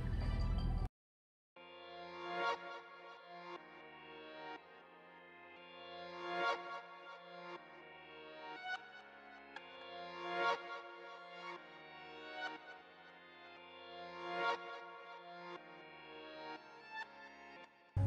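A soul melody sample plays reversed, so each note swells up and cuts off sharply in a repeating pulse. It is faint, steady and alone after a brief silence at the start.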